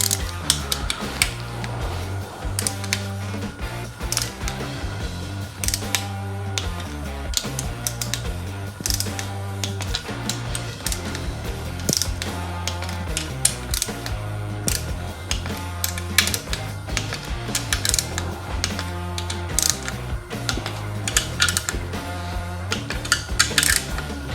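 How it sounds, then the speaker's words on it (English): A torque wrench is worked on Yamaha YFZ450R engine bolts during a rebuild, giving a steady run of quick metallic ratcheting clicks and mechanical ticks, close and alone throughout. "And we'll check them with the torque wrench."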